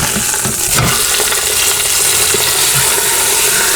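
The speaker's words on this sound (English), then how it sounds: "We're just browning the edges." Pork browning in a pressure cooker gives a loud, close, constant sizzle with a few soft knocks from a fork, lasting a few seconds with no speech.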